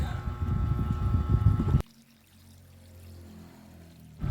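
Water pours into a cooking pot of native chicken with pineapple for a short burst, splashing fairly loud and close, then stops abruptly, leaving a faint quiet background.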